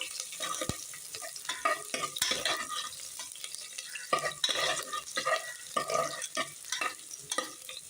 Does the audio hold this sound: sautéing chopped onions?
yes